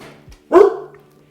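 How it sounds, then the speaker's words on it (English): A single loud, close bark from a pet dog indoors, one short sharp bow-wow that stands alone after a brief faint sound, with no talking. "And of course the dog's got a bark."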